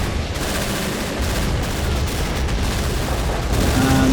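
Dense, continuous gunfire and explosions from a Men of War beach assault battle with a bunker machine gun, a loud unbroken roar of overlapping shots and booms filling the whole stretch.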